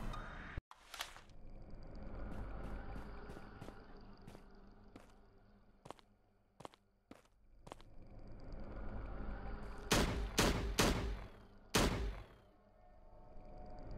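Gunfire in the Slendytubbies survival multiplayer game: several sharp single shots spaced over a low rumbling background, then a quick burst of louder shots near the end, fairly faint overall and with no talk.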